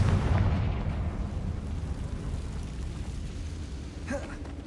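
A Confringo blasting curse detonates in Hogwarts Legacy: a loud, broadband boom at the start that rolls off into a long, low rumble, with a short magical shimmer near the end.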